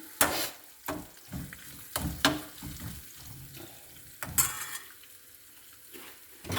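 Sabudana khichdi with boiled potatoes frying in a pan, with close, intermittent scraping and stirring clatter from a utensil over a soft, steady sizzle, the strokes coming in irregular bursts.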